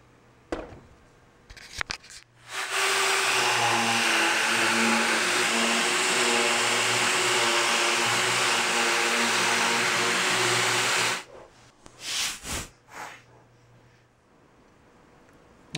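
A small router cuts wood for a butterfly leaf table, a loud, steady whine running for about eight seconds after a few brief knocks, then cutting off and followed by quieter handling sounds.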